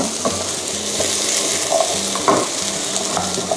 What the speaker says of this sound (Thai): เดี๋ยวเราจะเริ่มผัดให้มัน อ่อนตัวลงนิดนึง